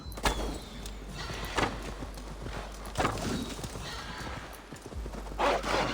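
Horse hooves clip-clop in Assassin's Creed Valhalla, a steady run of hoofbeats at close range that gets louder in a few bursts, with a faint whinny and no talking.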